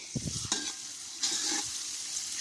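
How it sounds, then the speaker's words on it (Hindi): Tomatoes being mashed and stirred into frying onions in a pan, with soft scraping strokes and a quiet sizzle throughout. "तो इनके अंदर अब हम टमाटर डालते हैं। टमाटर डाल के इसको मैश करते हैं।"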